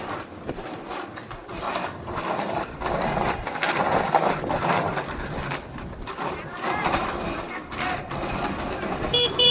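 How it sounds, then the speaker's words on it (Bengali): A horn honks while cycling through busy Model Town traffic, the blasts half-buried in steady street roar and passing vehicles as people talk nearby. "হর্ন দাও, হর্ন দাও"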